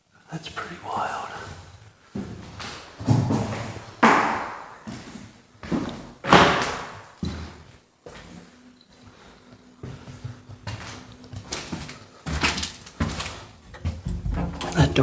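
Someone tries a locked wooden door in an abandoned 1300s castle, producing a run of heavy thuds, knocks and rattling bangs at irregular intervals, close by, with talk between them.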